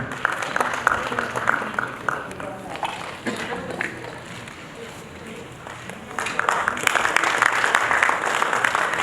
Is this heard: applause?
yes